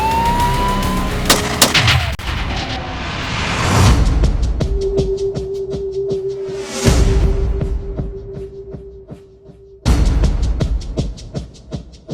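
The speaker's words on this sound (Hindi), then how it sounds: "लोगों को शहर में फायर लग रहे हैं" Gunfire sound effect in a city, loud sharp cracks and rapid bursts of shots mixed with a sustained tone and a rising whoosh, followed by a fresh loud burst.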